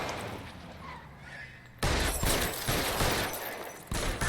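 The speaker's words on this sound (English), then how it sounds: "I shot him in the head." Gunfire in the video game L.A. Noire: a quiet lull, then a sudden sharp onset of loud, dense shots and crashes that continue in bursts, with brief spikes near the end.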